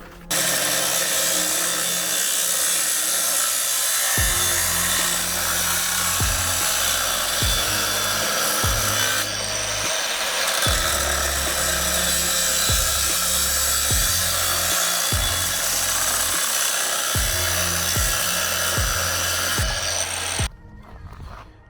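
A Bosch GWS 24-230 JZ angle grinder cuts through a 50 pipe with a loud, steady high whine lasting about twenty seconds, low thumps and shifts in load running underneath, before it cuts off near the end.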